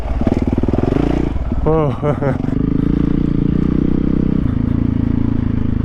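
A dirt bike engine drones and pulses steadily while being ridden by a rider new to dirt biking, loud and close, rising briefly as it revs, with a short exclamation from the rider partway through.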